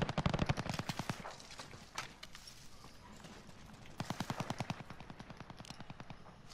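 Rapid bursts of gunfire from the video game Call of Duty Warzone, two strings of fast repeating shots separated by a quieter stretch, loud and close in the mix.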